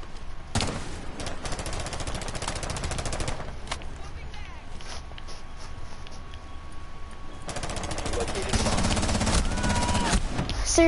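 Rapid automatic gunfire from a first-person shooter video game, bursts of firing running throughout, with a short lull mid-clip and a louder stretch toward the end.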